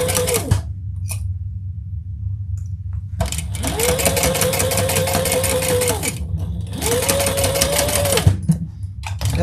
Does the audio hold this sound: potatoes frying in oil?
no